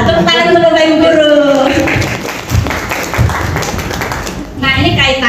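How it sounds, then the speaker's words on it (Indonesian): A room of teachers clapping for the teachers at a school positive-culture session, a few seconds of brisk applause with talking mixed in, loud and close. "Tepuk tangan untuk Bapak Ibu guru."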